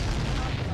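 A missile explosion in the combat flight video game Ace Combat 7, a dense, roaring boom that fills the whole short moment, loud and rumbling with heavy low end and a voice speaking over it.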